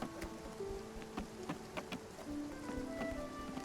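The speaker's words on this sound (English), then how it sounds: "I love rain so much. I could stay under it for days." Rain in the video game Spiritfarer patters softly and steadily, with scattered droplet ticks and faint tonal game sounds drifting over the quiet wash.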